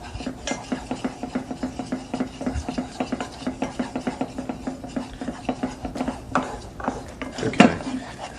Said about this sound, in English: we're going to add in our 1 tablespoon of flour slowly. We're going to stir it in.